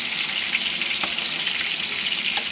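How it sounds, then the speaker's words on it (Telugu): Chicken pieces fry in a pan while being turned over, a loud, continuous close sizzle with a few scraping stirs breaking through the steady hiss. "ఇది చికెన్ ఫ్రై చేస్తున్నాను అంటే అవి తిప్పుతున్నాను ఫ్రెండ్స్ తిప్పేస్తున్నాను పీసెస్"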